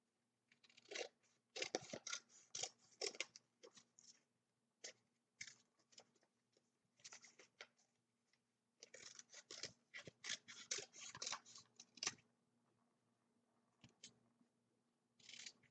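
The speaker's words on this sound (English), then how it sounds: "you can cut it up" Scissors snip through a paper plate to cut out a small traced ear, crisp bursts of cutting in quick clusters with short pauses, close and alone.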